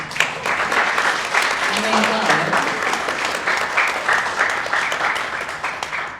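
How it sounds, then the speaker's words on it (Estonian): Audience at a theatre festival performance gives a big round of applause, a loud, dense and continuous clapping that holds steady for several seconds, with a few voices faintly beneath it. "palun teeme kõik endale ühe suure aplausi"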